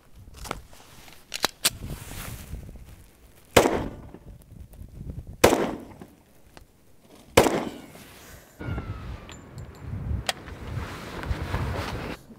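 A Walther PPQ 45 pistol fired downrange at an outdoor range: several sharp, loud single shots spaced a second or two apart, with some wind noise and faint ambient crackle between them.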